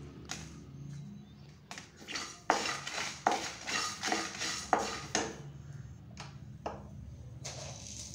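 Dried red chillies and spices go into a pan, with a run of close metallic clinks and scraping against cookware in a quiet kitchen.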